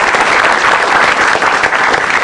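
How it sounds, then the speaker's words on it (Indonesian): Stand-up comedy battle audience bursts into loud, dense, continuous applause, close and even from start to finish with no talking over it. "Langsung aja tepuk tangan"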